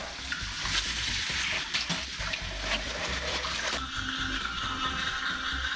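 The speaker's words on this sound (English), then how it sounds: "So I just wash my face with water" Steady running tap water splashes continuously as a face is washed, with brief wet sloshes and a shift in the flow partway through; no voices.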